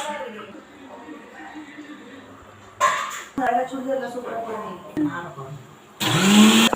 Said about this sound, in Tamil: தேங்காய் கொஞ்சம் அரைச்சி ஊற்றிக்கோங்க.